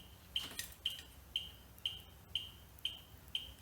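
A 2008 EZGO RXV golf cart controller gives seven faint, high, evenly spaced beeps about half a second apart, alone against a quiet background.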